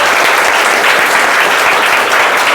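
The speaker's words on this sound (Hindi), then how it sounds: "एक बार ताली बजाओ इसके लिए, कस कर।" A roomful of students at a classroom prize-giving burst into loud, sustained applause, dense and even throughout with no break.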